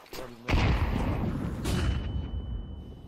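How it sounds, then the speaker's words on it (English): A grenade blast goes off during a Counter-Strike 2 match, a sudden heavy boom that rolls into a long rumbling decay with a fainter second burst. Players talk faintly under it. "Throwing a grenade."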